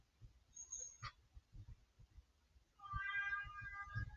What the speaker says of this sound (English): can hear my cat in the background yelling